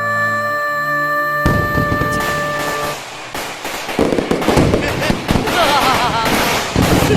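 Fireworks bursting during a comedy stage show, a rapid loud string of cracks and pops following a sustained musical tone, with crackling bursts continuing throughout.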